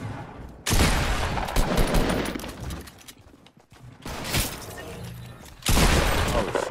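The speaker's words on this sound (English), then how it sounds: "I'm getting shot from somewhere else" Gunfire in Fortnite Battle Royale, loud dense bursts of rapid shots in several long volleys separated by brief lulls, with little talk.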